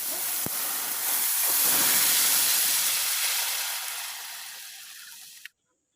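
A wok of white oil with radhuni spice hisses loudly and steadily, swelling to a broad roar before fading, then cutting off abruptly near the end; no talking.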